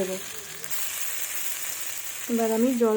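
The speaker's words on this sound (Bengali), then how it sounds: "এই দেখুন বন্ধুরা, আমি জল দিয়েছি।" Water hits a hot pan of sautéed moya fish curry, producing a steady, loud hiss and sizzle that fills the clip, and a voice starts talking briefly near the end.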